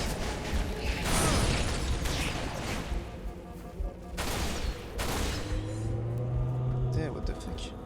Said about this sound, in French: L'ennemi me tire dessus.